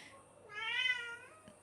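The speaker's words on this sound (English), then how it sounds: "He's probably gonna meow because he wants water." A pet cat gives a single clear, drawn-out meow wanting water, close by in a quiet room.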